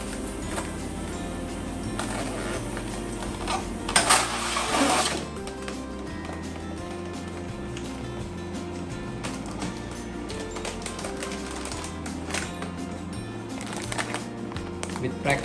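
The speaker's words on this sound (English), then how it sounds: "With practice, you can make sure the pouch get fed straight and you get the perfect sealing." A vacuum sealing machine feeds a pouch and heat-seals it, giving a steady mechanical whir and hum throughout, with a louder hiss or burst partway, while a person speaks over it.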